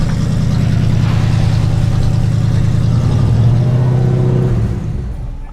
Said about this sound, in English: It's just idling so high, yeah.